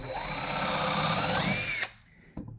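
Power drill boring a pilot hole while building a rubber mold, a steady loud whine for nearly two seconds that stops abruptly, followed by a brief quieter burst near the end.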